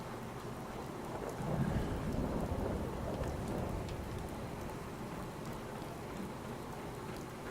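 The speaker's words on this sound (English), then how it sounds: "I can't sleep by myself when it's got a thunderstorm going on." Steady heavy rain with low rumbling thunder swelling near the start, a continuous dense wash of storm noise with no voices.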